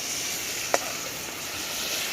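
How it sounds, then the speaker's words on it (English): Natural seasoning frying in hot oil, a steady close hiss and sizzle with one brief scrape or clack near the start, no talk. "So the oil hot. So my little niece I go fry up the natural season for me."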